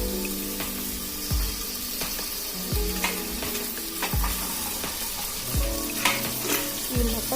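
Whole spices roasting in a pan for mutton sukka, with a steady close sizzle and frying crackle and repeated scraping stirs every second or so, and nobody talking.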